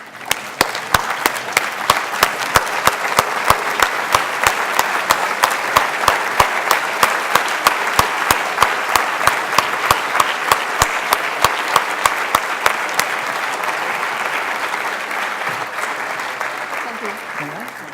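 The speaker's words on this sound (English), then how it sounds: "So please, again, stand up and give a big applause to the whole team." A standing audience applauds the organizing team at the close of an event, settling into long, steady rhythmic clapping in unison with sharp, evenly spaced beats, loud and sustained, with a voice faintly under it.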